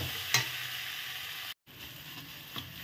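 Egg and eggplant mixture frying in a pan for a Bengali begun bharta, a steady close sizzle with a couple of light utensil scrapes and a brief dropout in the middle.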